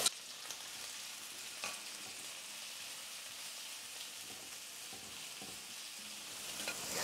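Chopped onion and curry leaves frying in oil with mustard seeds, a soft continuous sizzle with scattered crackles and a few stirring clicks, fairly quiet and close, with no talking.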